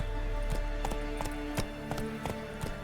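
Roach the horse gallops in Witcher 3, a brisk, regular run of hoofbeats, close and clear, over a constant background hum of game music.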